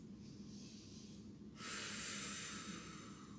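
Slow, deep breathing during a yoga side stretch: a long, soft hissing breath that swells into a stronger, airy exhale halfway through, close and steady, with no talking.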